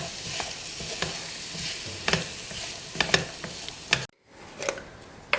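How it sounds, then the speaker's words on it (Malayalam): Rice is stirred into a tomato rice mixture in a pan, with repeated close scraping and clinking of a spoon over a soft sizzle, one brief pause, and no voices. "റൈസ് ഇട്ടിട്ട് നന്നായി ഇളക്കി മിക്സ് ചെയ്യാം"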